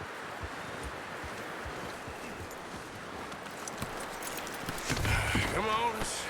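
Horse hooves clop in Red Dead Redemption 2, a soft, fairly quiet rhythmic stepping over outdoor ambience, with a voice speaking near the end.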